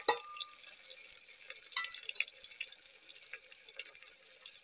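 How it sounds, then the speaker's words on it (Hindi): Water is poured into a pan of spiced baby jackfruit curry cooked with homemade masala, giving a steady close splashing trickle for the whole stretch, with no talk over it. "थोड़ा सा पानी दे देती हूँ"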